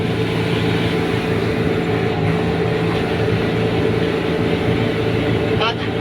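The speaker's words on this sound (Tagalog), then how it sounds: "Pakinggan yung makina." Continuous loud droning engine of a vehicle straining up a steep mountain road on Mount Matutum, a steady low hum with a persistent tonal whine throughout.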